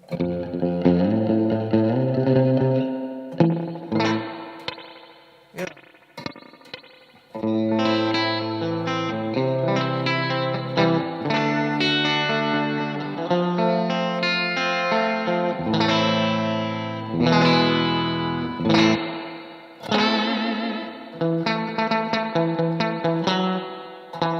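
Electric guitar chords and melodic phrases ring out through the spring reverb of a guitar amp modeler, with a splashy, wet tail after each strum, played alone and fairly loud.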